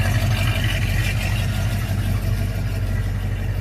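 A 1984 GMC Jimmy on its stock exhaust runs steadily, a loud, close, low rumbling idle that holds even and unbroken from start to finish with no talking over it.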